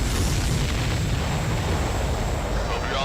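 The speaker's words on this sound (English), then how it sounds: "If we're too close, we'll get caught up in the explosion." An enemy supply ship explodes in the Ace Combat 7 video game, a continuous, heavy rumbling blast with deep booming low end that fills the whole stretch without letup.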